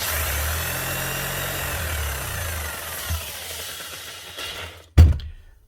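An old Makita HR5000K rotary hammer runs roughly with a loud, uneven mechanical roar that falters, then stops abruptly with a sharp thunk before a short decaying rattle.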